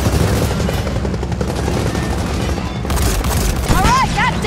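Gunfire in Gears of War 4, dense rolling bursts of shots and booms filling the whole stretch, loud and continuous, with game sound effects near the end.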